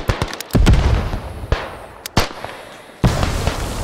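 Grenade blasts in the military shooter Beyond The Wire: a cluster of sharp, booming detonations up front, then separate heavy bangs spaced a second or so apart, each with a rumbling tail over battlefield noise.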